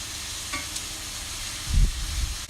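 Bavette steak frying in a pan with a big knob of butter, a constant hissing sizzle with a brief louder bubbling burst near the end, close and with no talk.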